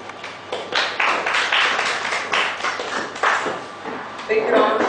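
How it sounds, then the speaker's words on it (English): Audience applause at a conference presentation on auditing compliance and analytics, a steady dense patter of clapping throughout with a brief voice underneath. "Big round of applause once again"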